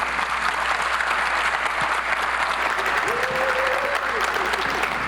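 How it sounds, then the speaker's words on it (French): Loud sustained audience applause fills a hall at a regional business network's annual general meeting, welcoming the association's president, Pascal Joubert, with dense steady clapping throughout and a brief faint tonal sound partway through. "que je vous remercie d'applaudir très fort"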